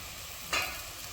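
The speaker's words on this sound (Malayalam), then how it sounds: "ഇത് നല്ലോണം ഇളക്കി യോജിപ്പിക്കണം" Mutton curry with chilli, pepper and garam masala powders sizzles in a pan, with one brief, bright scrape of a spoon stirring midway through a constant hiss.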